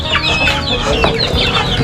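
Chickens cluck busily as they gather to eat scattered rice in a rural Thai yard, several birds calling close by in quick, overlapping bursts.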